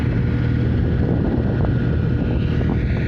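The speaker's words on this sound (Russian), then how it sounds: "Очень сильный снег идет, прям вообще жесть." Strong wind roaring steadily during heavy snowfall in a blizzard, a constant dense rumble buffeting the microphone throughout with no pauses or voices.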